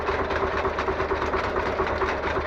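A small tractor engine runs steadily at close range with a fast, even mechanical chugging, no voices over it.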